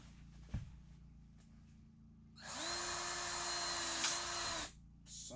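Cordless drill whirs steadily for about two seconds while driving a screw into a wooden board for a shed loft ladder, close and loud, preceded by a sharp knock and faint workshop background.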